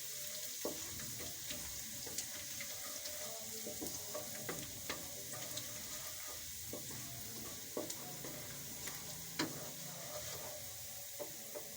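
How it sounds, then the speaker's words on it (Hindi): Continuous crackling sizzle of garlic cloves and cumin browning in hot oil, close up, with scattered pops and occasional light taps from a spoon. "3 से 4 हमने लहसुन की कलियां ली हैं। इनको थोड़ा सा हम ब्राउन कर लेते हैं।"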